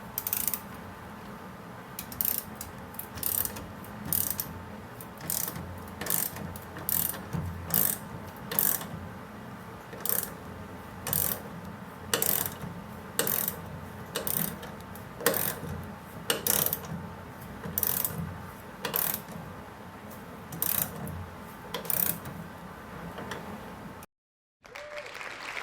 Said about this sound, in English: You can see where I've attached the puller.